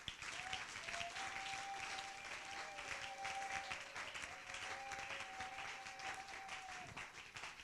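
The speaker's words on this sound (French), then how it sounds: "Est-ce qu'on peut acclamer Jésus" A church congregation applauds in continuous, even clapping that carries on without pause, with a faint sustained tone beneath the applause.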